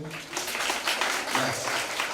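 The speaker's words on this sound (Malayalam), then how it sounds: "ഒരു കയ്യടിയോട് പറഞ്ഞു" Audience at a school celebration event clapping together, a dense burst of applause lasting the whole moment, fairly loud and steady, with some voices mixed in.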